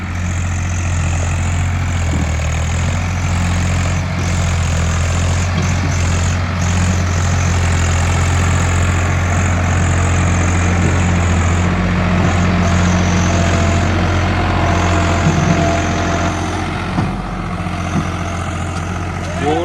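A 4x4 tractor hitched to a loaded trolley on a wet farm field runs with a steady, loud, low engine drone that holds close and even throughout, with no one speaking.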